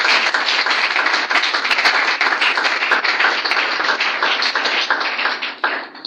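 Steady, enthusiastic applause from a church youth gathering fills the room after a Bible reading, many hands clapping close and loud for several seconds before tapering off at the end.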